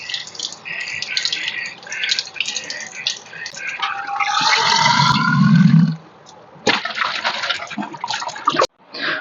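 Water rushing through a freshly cut PVC pipe during a DIY water sprayer build, flushing out plastic burrs: a steady splashing flow that swells loudly midway, drops out briefly, then resumes before stopping abruptly.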